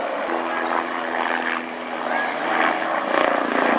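A Leonardo light utility helicopter flying at the RAF Cosford Airshow, a steady loud rotor and turbine roar with a droning hum, heard under a commentator's voice.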